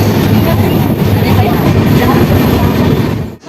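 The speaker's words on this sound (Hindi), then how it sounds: "ट्रेन हमारी अराइवल हो रही है अपनी किऊल जंक्शन रेलवे स्टेशन" A newly fitted LHB-coach Garib Rath Express from Anand Vihar to Bhagalpur pulls into Kiul Junction railway station in Bihar, its loud, steady rumble and wheel clatter filling the whole stretch before briefly dipping at the end.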